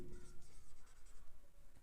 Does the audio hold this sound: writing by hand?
yes